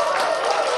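A crowd claps hard and steadily in a dense, continuous wash of applause with cheering mixed in, loud and close, lasting under a second.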